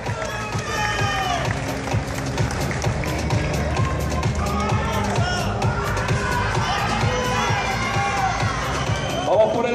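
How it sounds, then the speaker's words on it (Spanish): Crowd noise fills the whole stretch at an Argentine athletics championship in Córdoba as an athlete takes the podium, with steady cheering, shouting and scattered applause and voices mixed throughout. "Gran aplauso para Gustavo"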